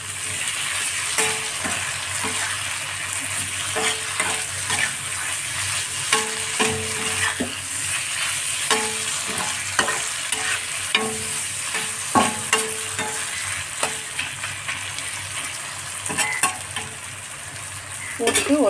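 Squid frying and being stirred in a pan with pepper, cumin and curry leaves, a steady close sizzle broken by repeated scraping stirs across the whole stretch, no voices.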